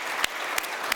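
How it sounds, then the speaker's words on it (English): A conference audience claps briefly for the panelists of a tourism and conservation panel, a short burst of dense applause with a few sharper claps standing out. "I would like you to join me in an applause to them"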